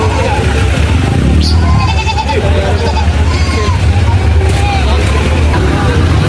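Goats bleat intermittently amid a busy outdoor livestock market, with a steady low engine rumble and people talking throughout.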